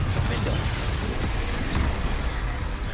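Confringo blasting spell explosions in the video game Hogwarts Legacy, a dense, continuous rumble of booming blasts and crackling impacts filling the whole clip at steady loudness, with battle noise layered throughout.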